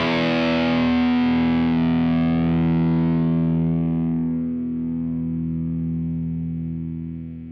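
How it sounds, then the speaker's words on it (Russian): An electric guitar plays through the distortion on a JOYO GEM-BOX-III metal effects processor with the noise gate on. A loud, heavily distorted sustained chord slowly decays and fades cleanly, with no talking. "Давай посмотрим, как работает шумодав."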